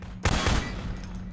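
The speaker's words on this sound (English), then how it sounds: "take out the firearm of your choice and shoot the device" A single loud gunshot fired at a device in Half-Life 2 Episode Two, a sharp burst followed by a rumbling, decaying tail, close and alone.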